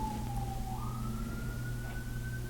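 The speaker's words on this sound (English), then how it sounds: "Sirens." A distant emergency vehicle siren wails in one long rising and falling tone over a low steady traffic rumble, faint and far off with no voices.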